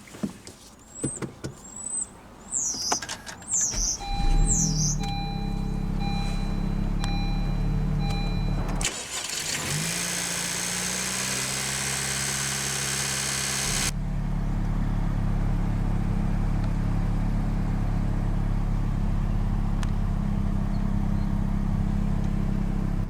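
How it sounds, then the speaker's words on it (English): Birds chirp outdoors, then a 2020 Honda Civic Si sedan's engine cranks via push-button ignition and catches, settling into a steady, close idle hum. "let's go ahead and start the engine"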